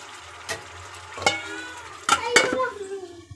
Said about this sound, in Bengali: গ্যাসটা কমিয়ে একদম কষা কষা করে কষাতে হচ্ছে